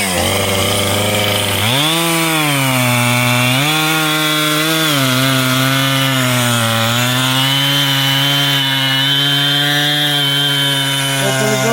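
Chainsaw cutting through a heavy log, a loud, steady, close engine whine that bogs down briefly as the bar bites into the wood, then holds a strained droning pitch throughout without talk.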